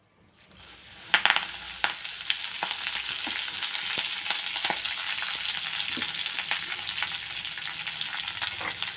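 Curry leaves dropped into hot oil in a pan for a curry leaf podi, bursting into a loud, dense crackling sizzle with sharp pops at the start that settles into a steady frying hiss.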